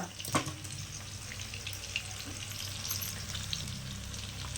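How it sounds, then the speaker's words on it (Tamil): Fish frying on a stone tawa, a close, steady sizzle and crackle of hot oil with a few sharper spits and light scraping, with no talking. "மீன் வறுக்கிறதுக்குன்னே வச்சுருக்கிற இந்த கல்"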